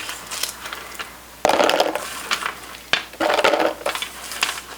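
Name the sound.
freeze-dried gummy bears poured into container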